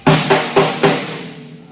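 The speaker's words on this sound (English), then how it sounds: "This is just a snare I made up out of bits and pieces." A homemade snare drum struck four times in quick succession, each crack bright and rattly with a short buzzy decay, close and loud.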